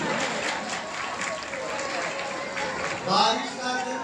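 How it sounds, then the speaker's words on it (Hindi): Devotees at a live Shiv Puran katha in Raghunath Mandir, Sector 15, Panchkula, clap together in a steady crowd patter. Voices carry through it, and a brief louder swell comes near the end. "हो गई ताली बजा दो"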